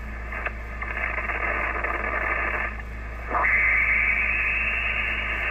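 A brand new radio picks up interference from a solar inverter and charge controller: a steady, loud wash of static and buzzing hiss. Partway through it shifts to a different layered noise with a sustained high whine.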